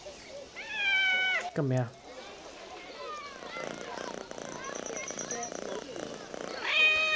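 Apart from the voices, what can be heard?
cat purring and meowing while petted in Assassin's Creed Mirage video game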